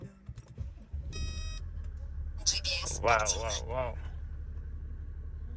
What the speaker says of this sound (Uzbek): Dizel ovozni eshityapsizlar